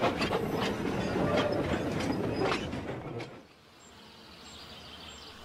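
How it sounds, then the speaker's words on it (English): A goods train pulled by a steam engine rolls past with rumbling wheels and clattering wagons, loud at first then fading away after a few seconds, leaving a quieter outdoor background with faint birdsong. "And Neville popped away with his goods train from the mainland."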